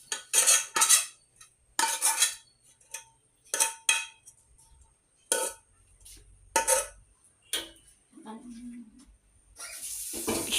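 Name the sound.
stirring and mixing food with utensils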